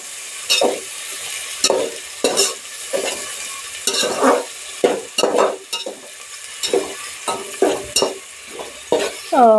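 Mixed vegetables, eggplant among them, stirred and roasted in a pan for a Maharashtrian bhogi rassa bhaji, with a spatula scraping in repeated strokes over a steady sizzle, close and clear with no talking.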